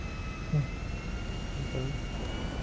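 A giant airplane's engine in GTA 5, heard as a continuous jet roar with a faint whine, steady and moderately loud, with a couple of short low thumps and no talk.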